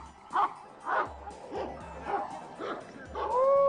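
Dog barking in repeated yips and bow-wows during attack training with a rubber cord, about five bursts spaced under a second apart, fairly close and loud, with some whimpering mixed in.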